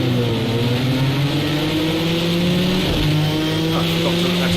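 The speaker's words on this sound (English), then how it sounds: "I've been many times not a fan of the sound of the Ford" Ford race car engines in a racing video game, a loud, continuous droning whine with steady harmonic pitch that dips briefly as if shifting, then holds; a voice talks over it.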